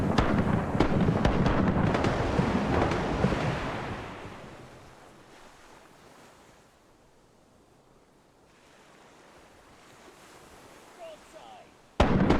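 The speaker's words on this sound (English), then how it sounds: "Fire the cannons!" Ship cannons fire in a pirate video game, a heavy booming blast of broad noise that rolls and fades away over several seconds into quiet, with a sharp new shot right at the end.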